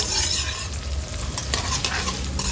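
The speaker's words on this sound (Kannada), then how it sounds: "1-2 ನಿಮಿಷ ಫ್ರೈ ಆದರೆ ಸಾಕು, ಜಾಸ್ತಿ ಫ್ರೈ ಆಗೋದು ಬೇಡ." Onions and green capsicum fry for chilli chicken in a hot pan, a dense continuous sizzle with steady stirring scrapes, loud and close with no talking.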